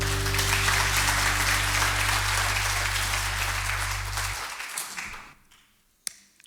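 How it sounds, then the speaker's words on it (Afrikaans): A church congregation at a Sunday morning service applauds in a sustained burst of clapping over a low held organ-like tone, then the clapping thins and fades out, ending with a single sharp tap. "Hey man, geef vir Wynand 'n lekker aan het klap"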